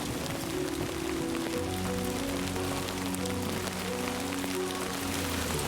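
Steady heavy rain falling in the video game Death Stranding 2, a constant dense hiss with low sustained musical tones underneath.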